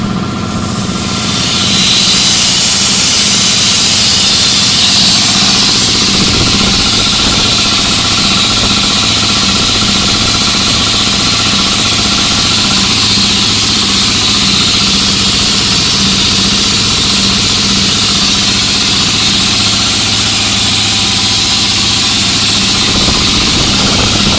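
Shop air compressor with a charge air cooler and a fan built into its pulley, running continuously with a loud, steady motor drone and hum, close up and unbroken throughout.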